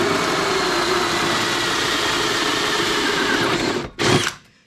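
Power drill spinning and boring through plastic on a Can-Am Outlander during a snorkel kit install, a loud continuous whine that stops abruptly and then gives one brief final burst.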